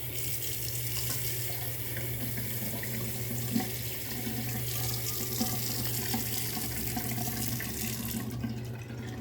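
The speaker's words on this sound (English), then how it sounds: "when you pull this, there's still water coming down" A bathroom faucet in a house runs steadily, water streaming into the sink with a constant hiss over a low hum, close and alone without talk.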